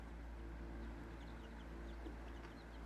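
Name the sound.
chickens clucking in a coop with chicks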